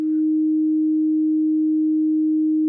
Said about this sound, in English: Sine waves are the simplest waves, and they sound like this.